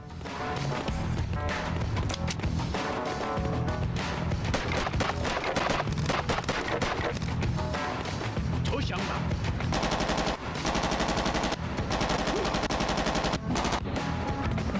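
Assault rifle gunfire in the video game Made Man: dense, loud bursts of automatic fire that rattle almost without pause for about fifteen seconds.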